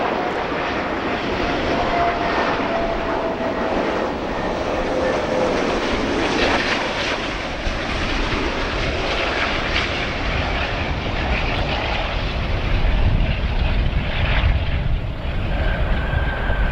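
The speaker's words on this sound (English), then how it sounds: "Our A380 now arriving here at O'Hare International Airport." A British Airways Airbus A380 arrives at O'Hare International Airport, its engines making a loud, steady, broadband roar that swells slightly toward the end, heard from outdoors with no voices.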